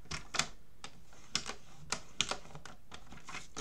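Sharp, faint cuts from a paper trimmer slicing through paper, several separate clicks and chops scattered over a few seconds in a quiet room.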